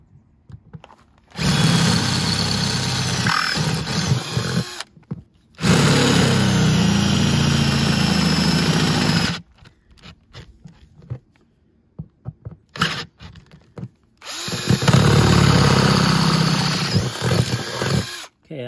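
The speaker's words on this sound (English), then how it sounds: "The size of the hole till we get to the biggest that the drill will work with." Power drill boring a quarter-inch hole through the body of a Chevy Express van, heard as several long, loud, high whining bursts separated by pauses and short clicks.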